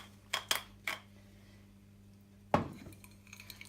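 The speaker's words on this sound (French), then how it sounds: "Je mélange." A utensil clinks against a bowl while a dill mixture is stirred, three quick light taps followed after a pause by one louder scraping clink, close and otherwise quiet.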